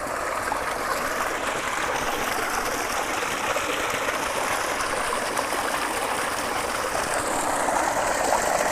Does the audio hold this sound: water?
yes